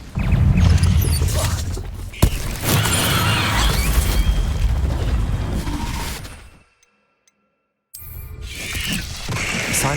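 Incendio fire spell cast in the Hogwarts Legacy video game: dense, loud roaring bursts with a sharp crack near the start. The sound cuts to near silence for a moment, then the fiery rush returns.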